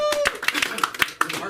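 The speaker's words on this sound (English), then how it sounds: "Give him a round of applause." A few scattered hand claps from a comedy-club audience at an LA comedy school show, irregular and fairly light, mixed in with talking voices.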